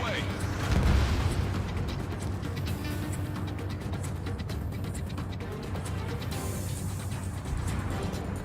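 A missile launch and explosion in Ace Combat 7, a continuous loud rumbling roar with a heavier boom near the start, surrounded by dense mechanical game noise throughout.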